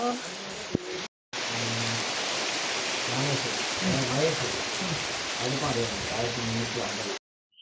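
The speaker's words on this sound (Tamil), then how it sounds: "மழை வந்துச்சு நான் ஓடுறேன் மழையில் ஓடுகிறேன் மழையில்" Steady rain pours down outdoors, a dense even hiss filling the scene, while a person talks over it throughout.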